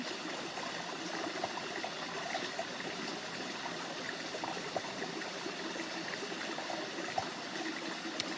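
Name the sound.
river stream flowing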